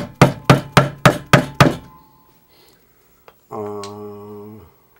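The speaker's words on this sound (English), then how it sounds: "I go back over everything with this hammer and get a real good center all the way across" Six quick, evenly spaced hammer taps ring out as guitar frets are seated, followed by quiet and then a short sustained tone.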